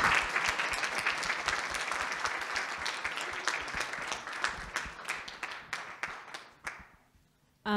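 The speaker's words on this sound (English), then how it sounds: "A warm round of applause again to our speakers" A seated audience at a book talk gives the speakers a warm, sustained round of applause that thins out and dies away over the last seconds.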